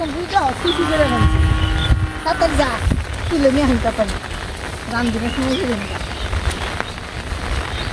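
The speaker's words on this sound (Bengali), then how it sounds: "এই যে জল আমাকে বাড়ির নিকটে পড়ছে" Monsoon rain falls steadily near a house in rural Bangladesh, a continuous close patter that runs throughout, with a voice talking over it and birds calling now and then.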